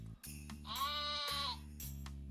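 A sheep bleats once in the Terracards video game, a wavering mid-length cry of about a second, loud and clear over a steady low musical backdrop with brief chimes at the start and end.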